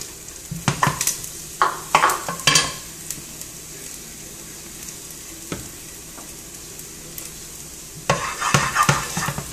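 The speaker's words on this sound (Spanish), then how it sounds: "Voy a freír mis tres ajos" Three garlic cloves fry in a pan over medium heat, a steady close sizzle broken by scraping stirs and clinks of a utensil against the pan, no voices.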